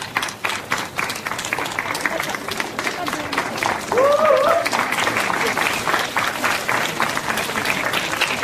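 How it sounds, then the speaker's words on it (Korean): An audience at the 23rd Pyeonun Literary Award ceremony applauds, a sustained wash of many hands clapping in a hall, with a voice speaking over the applause. "다시 한번 축하의 박수 부탁드리겠습니다"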